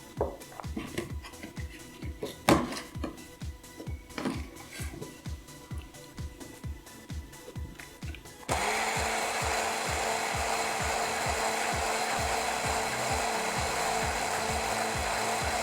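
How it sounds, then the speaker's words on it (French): An immersion blender whirs steadily through lemon cream with pieces of butter for a peppered lemon meringue tart. Rhythmic scraping and stirring come first, then the loud, continuous motor drone kicks in halfway and runs on unbroken. "pour avoir une crème bien lisse, je vais mixer avec le mixeur plongeant"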